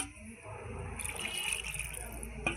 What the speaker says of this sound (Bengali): আমি এবার মাংসটা ধুয়ে নেব।